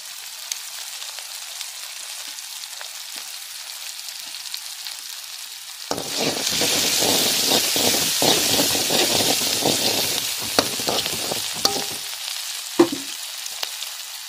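Egg and spice mixture with salt, crushed pepper and chilli powder sautéing in a pan for homemade egg parotta; quiet at first, then a steady close sizzle with scattered stirring clicks and one sharp scrape near the end.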